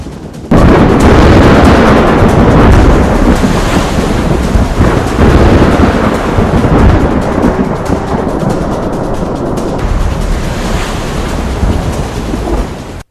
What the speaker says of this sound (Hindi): चक्रवाती तूफान यास ने पश्चिम बंगाल और ओडिशा के बाद झारखंड और बिहार में भी असर दिखाना शुरू कर दिया।